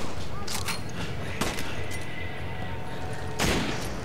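Gunfire in Resident Evil 5 on PC gives a few loud, sharp shots spaced apart over a constant game background rumble, with small mechanical clicks between them.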